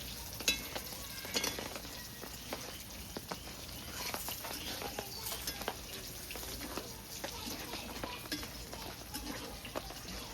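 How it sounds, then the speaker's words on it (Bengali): Eggplant frying in a pan outdoors as rain threatens, with a steady crackling sizzle and occasional spatula scrapes; no one speaks. "এখন বেগুন ভাজছি"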